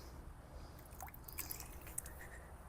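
Water drips and trickles from an opened Intex pool pump filter housing, faint wet splats and soft squishes scattered over a low background hum.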